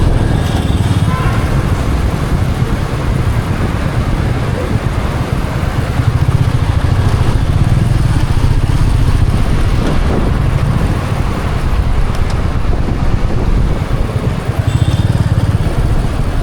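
Royal Enfield Meteor 350 motorcycle ridden at night through city streets in Hyderabad, its steady engine drone and wind rumble running continuously and close, with brief voice fragments over it.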